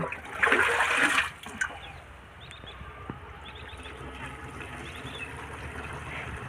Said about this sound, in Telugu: నీళ్ళు పడుతున్నాయి కింద చూడు స్వామి, ఆయిల్ ట్యాంకీ మీద.